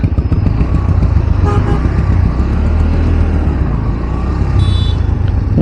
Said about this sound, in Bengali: আর আমি চলে এসেছি হাই রোডে তো যেহেতু হাই রোডে গাড়ি অনেক থাকবে